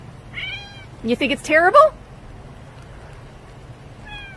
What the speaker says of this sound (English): That's my cat, Yorkie.